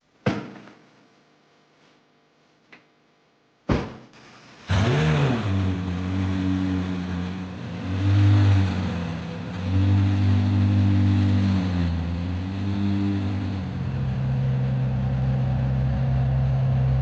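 A McLaren 720S, a car with 126K on the clock, starts up after door thumps and idles and revs loudly and close while pulling away, with the engine note rising and settling in waves.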